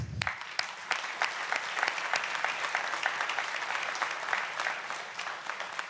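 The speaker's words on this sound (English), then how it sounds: "I think that's a big round of applause too." A city council meeting audience applauds volunteers with steady, moderately distant clapping, individual sharp claps standing out over the even patter throughout.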